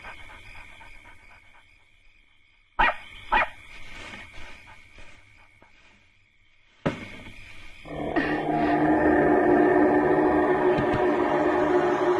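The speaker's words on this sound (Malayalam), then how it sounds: "എന്താടി മോളെ നീ വക്കത്തുറുവിലേക്ക് നോക്കി കുരയ്ക്കുന്നേ?" A dog near a haystack barks in sharp bursts: two quick barks, a pause, then another. It follows with a long run of panting and whimpering yips, with no talk.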